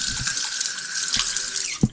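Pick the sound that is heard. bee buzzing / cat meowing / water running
water running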